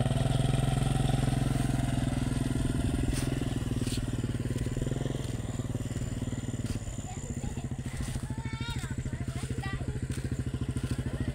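A motorcycle ridden by a learner, engine running loud and close with uneven revving and a steady low drone throughout, while people talk over it.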